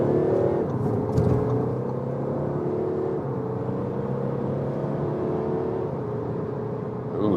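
Audi A4 sedan in Dynamic sports mode accelerating hard from 50 km/h, a steady loud engine drone with rising harmonic tones climbing across the run, heard from inside the cabin with no talk.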